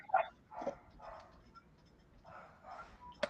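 A dog barks and yips several times in short bursts, faint and distant, as if outside.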